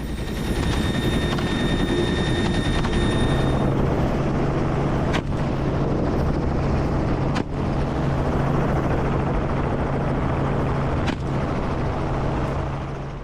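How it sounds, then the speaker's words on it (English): A steady, loud mechanical drone of a helicopter flying low over thick grass on a farm during a feral hog hunt fills the whole clip, with a few sharp cracks standing out over it. "The helicopter slowly descended as we entered the thick grass area"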